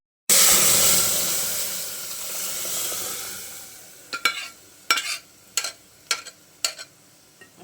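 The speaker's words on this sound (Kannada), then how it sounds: "ಈ ಸ್ಟೇಜಿನ ನಾವು ದಾಲ್ನ ಮಿಕ್ಸ್ ಮಾಡ್ಕೊಳ್ಳೋಣ" Dal frying in a pan for Andhra-style dal, a steady sizzle and hiss that fades over a few seconds, then several sharp scraping strokes of stirring in a loose rhythm, up close with no talk.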